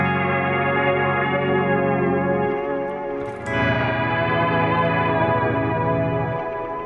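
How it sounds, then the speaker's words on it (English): Electric guitar played through a Meris LVX delay preset with volume swells that remove the pick attack, giving sustained, heavily modulated chords with echo, chorus and reverb that fade in smoothly, two long swelling phrases. "You just swell, so again it kills off that attack, and a bit like a volume pedal swelling into the sound."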